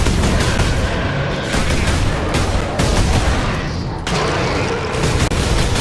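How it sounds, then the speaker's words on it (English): Autocannon fire in the Warhammer 40,000: Space Marine video game, a loud, dense barrage of heavy booming shots that pounds on almost without pause, with one brief lull about two-thirds of the way through. "That isn't a heavy bolter, that's a friggin' autocannon!"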